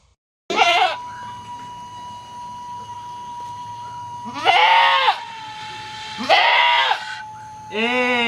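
A goat bleats several times, loud and close, with long pauses between calls over a steady faint hum in the background.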